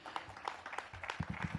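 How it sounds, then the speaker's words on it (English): A short, faint burst of applause for Mayor Bowser at a Washington, D.C. gathering of Fort Stevens residents celebrating preserved affordable housing, with scattered claps thickening toward the end. "I think we owe our mayor another round of applause"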